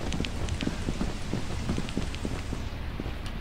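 Steady heavy rain with low rolling thunder in the video game Lethal Company, a dense continuous wash of downpour close by with scattered drops and rumbles, no voices.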